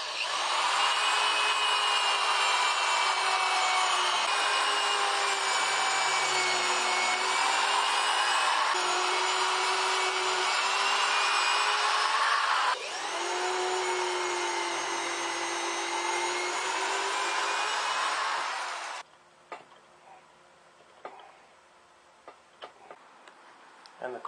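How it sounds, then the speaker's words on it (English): A power drill whines loudly and steadily for many seconds, drilling the wooden corners of a solar water heater box, pitch dipping briefly midway, then cuts off, leaving a few light clicks and knocks. "now I'm going to drill the corners."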